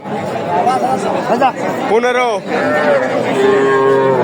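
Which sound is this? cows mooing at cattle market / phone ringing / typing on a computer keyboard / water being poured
cows mooing at cattle market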